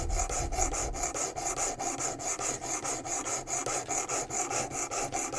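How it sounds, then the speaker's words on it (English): A knife blade strokes across a WorkSharp Precision Adjust sharpening stone in a steady, even rhythm of scraping rasps, about four per second, close and fairly soft, with no voices. "You're kind of letting the stone do most of the work, applying just a little bit of downward pressure."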